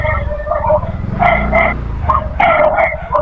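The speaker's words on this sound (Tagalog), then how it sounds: "Ayun yung maingay yung aso." A dog barks in a few sharp, repeated bursts near a large red gate at a house, loud and close over steady background noise.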